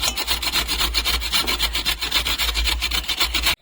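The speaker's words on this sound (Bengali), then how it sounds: "এখন আমি এটাকে ঘষণি দিয়ে ঘষে নেব।" Peeled carrots being rubbed on a hand grater make a loud, continuous rasping scrape in quick, even strokes, with no talking.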